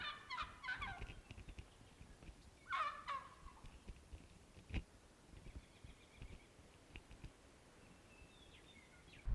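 Wild turkeys in a flock of about fifteen to twenty gobble in South Dakota hunting country, several bursts of rattling gobbles sounding from a moderate distance, the loudest near the start and around the third second, with quieter calls scattered through the rest.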